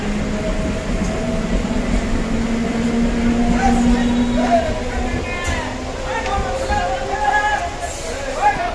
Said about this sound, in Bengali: ট্রেনটা শুধু পার হবে তারপর দেখবেন কতটা ভিড়।